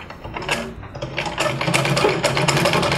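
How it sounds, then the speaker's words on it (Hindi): A domestic sewing machine stitches after its needle has been adjusted, giving a close, steady mechanical whirr with rapid rhythmic clatter that builds slightly louder over a few seconds, alone without talk. "ये होने के बाद हम लोग इसका सिलाई चेक करेंगे।"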